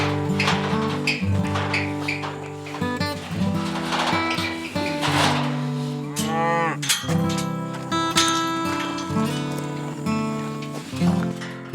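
Cattle, cows and calves being separated at a gate, lowing and mooing loudly and repeatedly from several animals close by, calls overlapping in long drawn-out bellows with higher calf cries mixed in.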